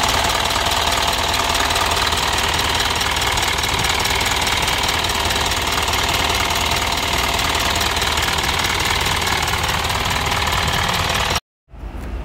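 Idling Isuzu NMR81L Euro 4 light-truck diesel: a loud, close, even clattering rumble sustained throughout, cutting out briefly near the very end.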